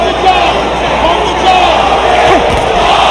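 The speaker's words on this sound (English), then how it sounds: "Crowd trying to encourage their man." Boxing arena crowd roaring and cheering during the Bernard Hopkins versus Oscar De La Hoya fight, a dense continuous wall of shouting from many voices, loud and sustained without pause.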